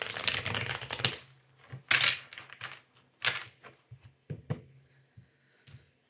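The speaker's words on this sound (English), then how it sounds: "These shuffles are getting harder and harder." Tarot cards shuffled by hand in a series of crisp riffling and tapping bursts, a few louder flurries followed by softer, scattered clicks, close and alone with no talking.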